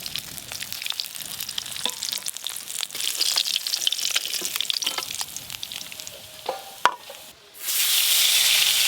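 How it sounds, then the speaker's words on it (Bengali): Small bachi river fish frying in a pan, a steady close sizzle with scattered crackles and stirring clinks, ending in a louder rush of hiss. "দেখতে দেখতে বাচি মাছগুলো ভাজা হয়ে গেল।"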